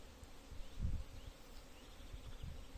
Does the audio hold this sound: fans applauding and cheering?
no